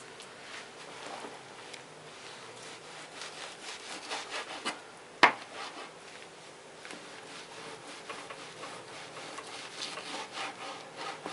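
A knife saws through half-frozen beef, cutting thin slices for bulgogi, heard as quiet repeated rasping strokes close by with a single sharp knock midway.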